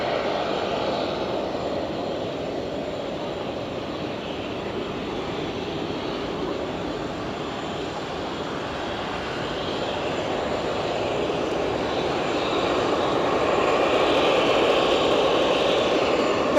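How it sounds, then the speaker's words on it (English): A Qatar Airways Boeing 787 Dreamliner on its takeoff roll in Germany, a continuous broadband jet roar heard from a distance that builds gradually louder toward the end. "let's see if we can get that Qatar Dreamliner. Blame Rab, it's rolling."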